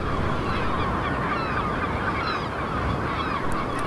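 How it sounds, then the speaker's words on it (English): A colony of gulls shrieks without pause on a windy rocky island, the harsh overlapping cries carried over a steady roar of wind. "There's a constant shriek from the gulls wherever we go."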